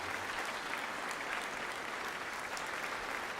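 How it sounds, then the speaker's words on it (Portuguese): Congregation applauding during a church service as people come forward; dense, steady applause from a large crowd, even and continuous throughout, heard at moderate distance without other sounds on top. "E vamos aplaudir ao Senhor Jesus por cada vida que está chegando"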